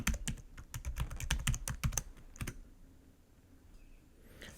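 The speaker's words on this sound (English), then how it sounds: "and type in a password." Password being typed on a computer keyboard during an account sign-up: a quick, close run of clicky keystrokes for about two seconds, then a few scattered taps and quiet room tone.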